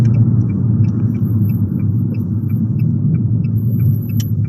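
An Abarth fitted with a Toyosports exhaust drives along a road, giving off a loud, steady, close-up low exhaust drone with no one speaking.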